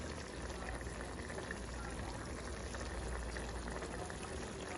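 Lobster tails folded into a sauce with sausage, bubbling at a steady low simmer, a soft continuous gurgle with no voices and no break.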